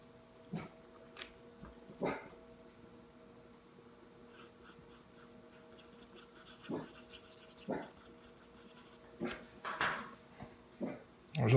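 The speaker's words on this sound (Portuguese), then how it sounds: "o que você tá latindo aí?" A dog on a rural property gives short, scattered barks and whimpers, fairly faint and spaced out with quiet gaps between them.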